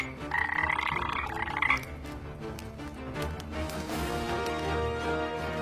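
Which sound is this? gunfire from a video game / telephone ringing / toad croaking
toad croaking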